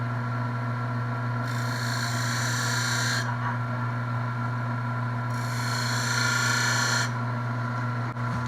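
Wood being burnished with lines while spinning on a lathe for a cigar stand, two bursts of bright rubbing friction about two seconds each over a steady motor hum.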